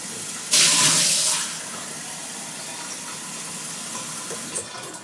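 Water pours in a loud broadband gush for about a second, then continues as a quieter steady trickle and splash, with a brief clink near the end.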